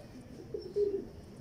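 A pigeon gives a short, soft low coo, close by and fairly quiet, against a faint steady background hum.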